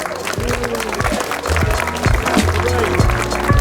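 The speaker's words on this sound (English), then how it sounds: "Give you all yourself a round of applause." A crowd at the Shaw Car Show 2024 breaks into sustained, fairly loud applause, with many hands clapping continuously for several seconds and low background sounds underneath.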